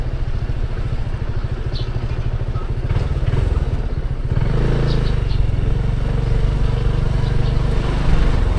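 A motorcycle engine runs steadily nearby on Samal Island, Philippines, with a throbbing low rumble, rising a little partway through, with some clatter around it.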